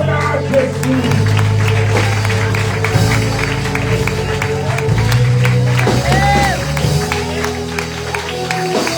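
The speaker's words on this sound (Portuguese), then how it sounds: "Quem recebe esta palavra, aplauda Jesus." Church congregation applauding during a worship service, loud crowd clapping and whoops blended with organ or keyboard music and voices, sustained throughout.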